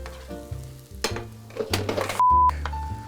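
Mushrooms and onions sauté in a pan, sizzling under bursts of music, with a brief loud flare of spitting and a high tone cutting in near the end.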